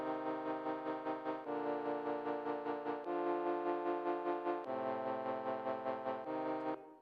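A modulated synth keys lead made in Serum 2 plays sustained chords that shift every second or so, with a wobbling, slightly distorted organ-like tone and no voices.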